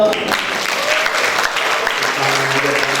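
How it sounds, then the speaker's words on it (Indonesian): An audience at an Islamic study gathering breaks into steady applause, a dense continuous patter of clapping heard clearly for a few seconds. "tepuk tangan dong"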